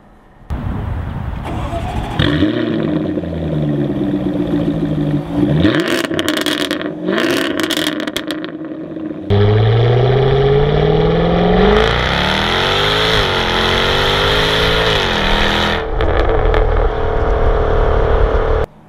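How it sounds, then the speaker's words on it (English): A Jaguar F-Type R with its active exhaust open is revved hard nearby. Loud blips rise and fall, then a long rising, roaring rev holds before dropping off, with crackles between pulls. "It's so loud with the active exhaust turned on that you kind of have to plug your ears when you're filming exhaust videos."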